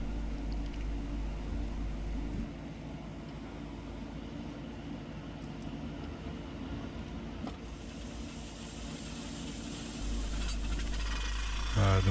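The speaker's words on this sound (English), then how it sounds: "The machine is running, the drill is biting into solid rock" Heavy rock drilling machinery boring into solid rock at a blasting site, a continuous low grinding rumble with a hammering undertone, engine noise swelling louder near the end.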